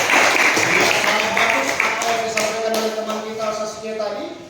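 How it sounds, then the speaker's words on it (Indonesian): Classroom group clapping for a student's response, a brisk burst of claps that fades as a teacher's voice takes over and keeps talking. "Oke ya, tepuk tangan dulu."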